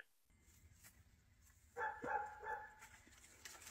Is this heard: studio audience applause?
no